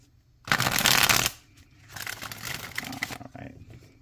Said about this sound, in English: how many times can you watch me shuffle?